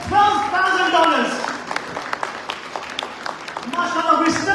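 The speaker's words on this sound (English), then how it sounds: "Can I ask everybody to please give Connecticut a big round of applause?" An audience at a charity fundraiser applauds a donation from Connecticut with a short burst of scattered clapping between spoken words from a man at the front.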